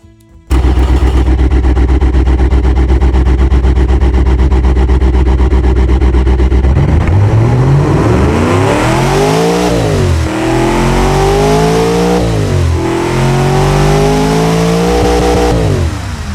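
A Mopar 440 V8 with no mufflers, simulated in the Automation car-building game, idles loudly with a steady drone before revving up and down in several rising and falling sweeps, close and unbroken throughout.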